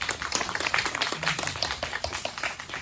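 Brief burst of audience clapping for a cinematographer at a film screening Q&A, dense and fairly close, holding steady for a few seconds without speech on top.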